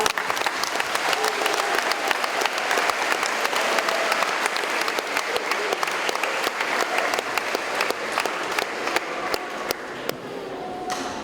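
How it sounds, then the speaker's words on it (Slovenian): Loud, sustained applause from a school talent-show audience greeting a performer named Špela and the other contestants, dense clapping filling the hall steadily for about eleven seconds and thinning slightly at the end. "Pozdravljamo Špelo in vse nastopajoče z bučnim aplavzom."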